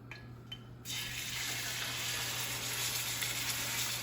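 Pork tenderloin laid salt side down in a hot pan, breaking into a sudden loud, steady sizzle that carries on to the end after a few quiet clinks.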